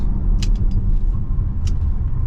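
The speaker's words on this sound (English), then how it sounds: "Sharp turn to the right on the brakes." Low, steady road rumble and engine hum inside a 2023 Mazda CX-50 2.5T as it brakes through a sharp right turn, with a couple of brief high squeaks over the drone.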